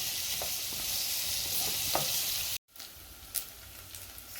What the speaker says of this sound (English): I'm going to fry these onions here